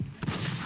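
A single loud gunshot blast from a video game firefight, with a sharp broadband report that lingers briefly into a dense rumbling tail.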